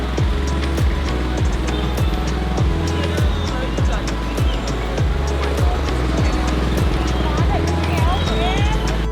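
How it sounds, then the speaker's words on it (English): Street traffic fills Hanoi's Train Street just after a train passes, a loud, constant close engine drone with a repeating ticking pulse and passing vehicles. "So this is the traffic after the train."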